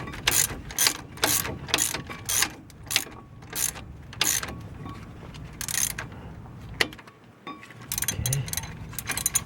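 Ratchet snugging the front brake caliper bolts on a 2000 Jeep Grand Cherokee: quick bursts of close, crisp clicking in repeated strokes, with short pauses and a little handling noise between them and no speech.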